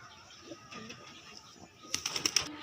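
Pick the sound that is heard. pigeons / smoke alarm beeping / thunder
pigeons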